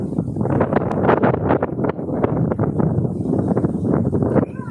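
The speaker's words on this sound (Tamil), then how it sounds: "காத்து எப்படி அடிக்குதுன்னு பாருங்க" Strong wind gusts outdoors, buffeting the microphone in uneven rushing bursts, with faint rustling mixed in.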